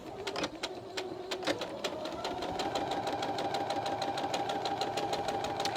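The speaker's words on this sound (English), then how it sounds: "I'm going to sew end to end. Okay, let's get the needle down." A sewing machine stitches quilt fabric strips end to end, running with a steady rapid mechanical chatter and hum, starting slightly uneven and then settling into an even, continuous rhythm close by.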